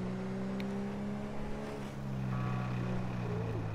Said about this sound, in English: This cop car already feels, sounds broken.